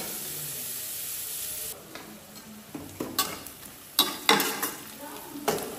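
Onions frying until brown in a pan, a steady sizzle with stirring scrapes and sharp spoon taps growing more frequent toward the end, close by.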